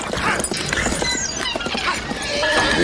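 A horse's hooves clip-clop in a quick, uneven rhythm close by, mixed with a whinny and a few scattered outdoor sounds in a Western setting.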